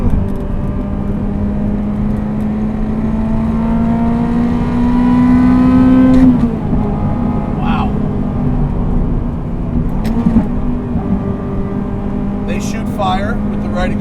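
A Ferrari F355 GTS with a manual gearbox drones steadily from inside the cabin, its engine and exhaust swelling as it pulls through a gear, easing off around the midpoint, then climbing again with short throttle changes, loud and continuous.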